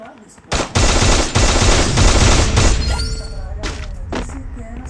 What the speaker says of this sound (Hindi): और अब देखते हैं ऐसा विस्फोट